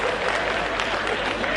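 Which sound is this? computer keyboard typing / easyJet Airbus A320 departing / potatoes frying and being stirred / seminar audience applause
seminar audience applause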